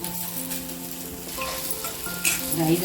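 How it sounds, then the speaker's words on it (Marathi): Garlic, curry leaves and cumin sautéing in a pan for a pumpkin sabzi, a steady close sizzle with a brighter crackling burst near the end, and no talking. "लसूण आणि कढीपत्ता घालूया परतून घेऊया जिरं घातलं"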